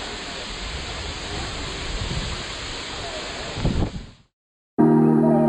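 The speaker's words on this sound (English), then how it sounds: "the boat nosed into Stirling Falls, the same waterfall that Hugh Jackman is said to have jumped off" Stirling Falls in Milford Sound, heard from a boat nosed in close: a loud, steady, broadband roar of falling water that swells briefly before cutting out, then returns just as loud.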